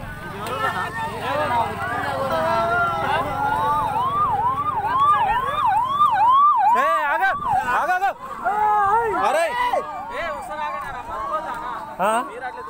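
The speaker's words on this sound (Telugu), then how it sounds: "ఇంకో అంబులెన్స్ వస్తుంది" An ambulance siren wails in repeated rising and falling sweeps, loud and close, over a murmur of crowd voices and traffic.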